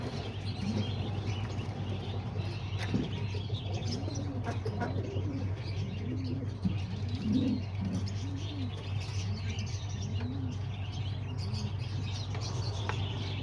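Homing pigeons coo softly in cages, repeated low rolling calls recurring every second or so over a steady background hum, with occasional faint chirps and rustles.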